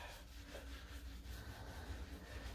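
Steady rough rubbing of sandpaper against a metal motorcycle fork, a continuous scratchy friction sound, close and fairly quiet.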